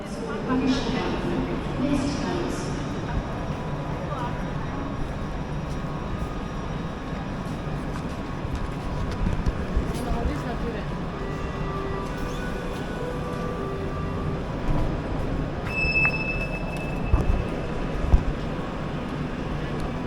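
Riding a metro train on a city line abroad, with a steady rumbling rail roar and hum throughout, a few brief squeals and knocks near the end, and people talking faintly in the carriage.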